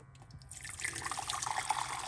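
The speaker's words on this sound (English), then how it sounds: "We're gonna add some hot water." Hot water poured into a cup with rosemary, ginger and cloves for tea, a steady bright splashing pour beginning after a brief quiet moment, close and clear.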